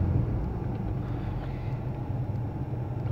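A Rover 75 car on the move, its engine a steady low rumble and drone heard from inside the cabin, even and continuous with no gear changes or speech.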